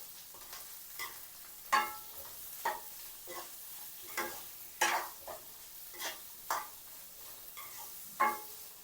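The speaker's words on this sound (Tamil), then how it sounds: "இதை சேர்த்து கொஞ்சம் நேரம் வதக்கி விட்டு கொள்ளுவோம்" Capsicum and onions sautéing in a pan for a capsicum curry, a quiet low sizzle punctuated by about a dozen distinct spatula stirring scrapes at a loose, steady pace, close up and without speech.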